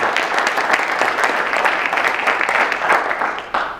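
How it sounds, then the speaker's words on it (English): Warm audience applause for a sports officials panel discussion, a loud, dense burst of many hands clapping together, fairly close and sustained, tapering slightly at the very end. "Let's give our panel a warm round of applause"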